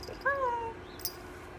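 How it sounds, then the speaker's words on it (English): A domestic cat gives one clear, drawn-out meow close by indoors, followed by a brief faint click. "It's my cat."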